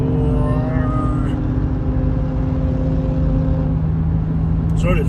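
Highway traffic on Interstate 95 near Fredericksburg, Virginia roars steadily with a loud continuous engine drone and tonal hum from passing vehicles, heard close up.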